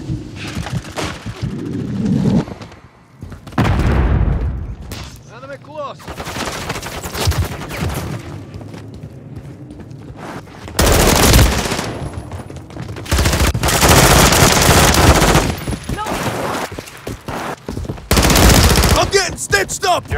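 Online team deathmatch gunfire in Call of Duty: Modern Warfare III on PS5, loud bursts of automatic and single shots in irregular clusters, with heavy impacts and game chatter between volleys.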